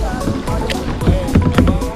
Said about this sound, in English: I'm just rowing with one hand